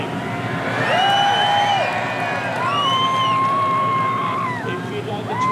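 An outdoor crowd at Beaulieu Supercar Weekend cheers and whoops loudly for a supercharged Jaguar, a broad sustained roar with rising shouts over steady background noise.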